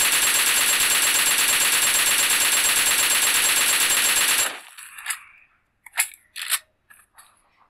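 Gun reloading with a jungle-style magazine in PUBG Mobile: a long, loud, continuous mechanical rattle cuts off sharply, then several distinct metallic clicks and clacks follow, spaced apart.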